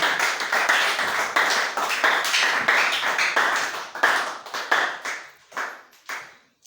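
Church congregation clapping hard together, a dense, steady burst of applause that holds for several seconds and then thins into scattered, fading claps.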